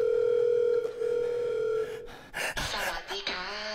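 Telephone dial tone as a call to the police is placed in a comedy sketch, a steady loud tone for about two seconds before cutting off, followed by a gasp and brief vocal sounds.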